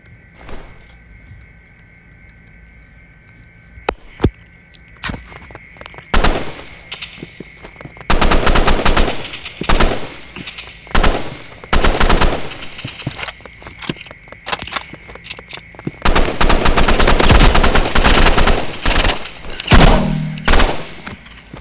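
Gunfire in the shooter video game Rivals comes as loud, close bursts of rapid automatic fire mixed with single shots, growing denser and more sustained toward the end.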